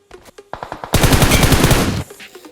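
Burst of rapid automatic gunfire in the mobile battle-royale shooter BGMI (PUBG Mobile), a few short shots first, then a loud sustained volley lasting about a second before cutting off.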